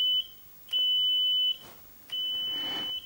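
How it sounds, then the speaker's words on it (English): A small buzzer powered by a potato battery sounds in Morse-style bursts: three steady high-pitched tones of differing length separated by short gaps, clear and close with no talking. "If we wire up the buzzer, you can hear now that we've got enough current to get the buzzer to work."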